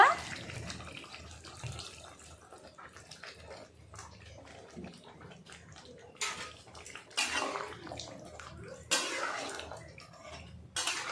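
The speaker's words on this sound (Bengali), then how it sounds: "অল্প জল দিয়ে দেব" Water is poured into a cooking pan holding pointed gourd and mung dal, a splashing pour with several bursts of louder running water over a quiet kitchen background.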